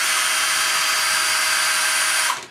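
A power drill whirs steadily and loudly while backing screws out of a door lever handle, holding one even pitch before winding down abruptly at the end.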